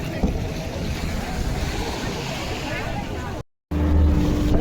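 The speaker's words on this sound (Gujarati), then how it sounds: "જો આપણે જવાનું છે જો આ બોટમાં." A boat out on the sea near Dwarka, with splashing waves and strong wind rushing over the microphone, loud and continuous apart from a brief dropout near the end.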